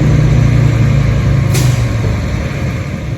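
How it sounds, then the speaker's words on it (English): A truck roars past close by beside a lake, a loud, rough engine rumble that fills the whole moment and eases off slightly toward the end. "that truck was exceptionally loud"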